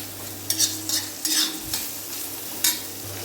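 Pitla batter sautéing in hot oil in a pan, with a soft steady sizzle broken by a few short scraping bursts as it is stirred.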